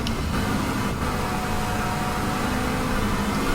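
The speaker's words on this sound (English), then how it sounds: "It's nice to have a different sounding engine." A Volvo V40 T5 R-Design's steady engine drone with constant road and wind noise, loud and unbroken throughout, running at speed during a lap.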